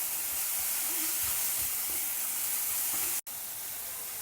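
Sliced onions and other vegetables stir-frying in a pan with turmeric and salt, giving a constant, even hiss of sizzling steam with one brief break near the end.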